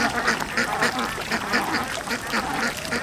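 A duck quacks over and over in a steady, rhythmic series of raspy calls, loud and close against a constant noisy background.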